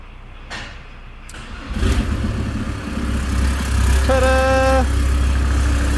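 A VW T4 van diesel engine cranks and catches around the two-second mark, then settles into a steady, close idle that stays loud to the end, with a brief whining tone partway through.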